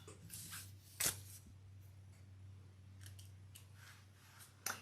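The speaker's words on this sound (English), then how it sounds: "let's cut our excess zipper off" Scissors trim the excess length off a zipper, two sharp crisp snips about four seconds apart over quiet room hum.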